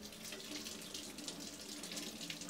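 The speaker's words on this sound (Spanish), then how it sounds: "Y acá estamos probando el celular debajo del agua." A Samsung Galaxy S5 mini held under a running tap in a water-resistance test: a constant, close hiss of streaming water splashing over the phone, with no speech.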